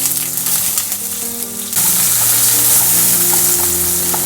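Chopped onion hits hot oil in a pan for spicy arrabbiata pasta, the sizzle jumping suddenly to a loud, dense, continuous hiss after a quieter start.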